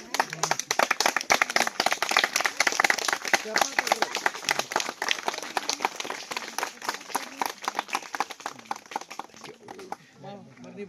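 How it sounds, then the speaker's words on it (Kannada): A group claps together in a dense, fast burst of applause that runs strong for about nine seconds before tapering off, with voices mixed in. "ಎಲ್ಲ ಚಪ್ಪಾಳೆ"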